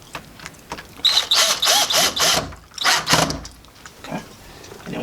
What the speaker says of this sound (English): if you want to use your drill to kind of speed up the process